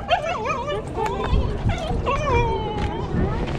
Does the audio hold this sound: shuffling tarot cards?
no